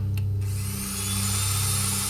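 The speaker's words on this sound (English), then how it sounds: "Drill's turned on" A drill in the horror video game Stories Untold whirs steadily and loudly, a sustained mechanical drone with a low hum after a brief softer start, running on its own without talk.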